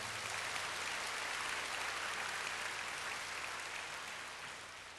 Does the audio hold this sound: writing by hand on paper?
no